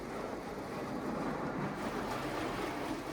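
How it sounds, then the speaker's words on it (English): High-pressure water sprays inside a LaserWash 360 touch-free automatic car wash, a loud, dense, unbroken hissing roar that stays even from start to finish. "that's supposed to be high pressure water?"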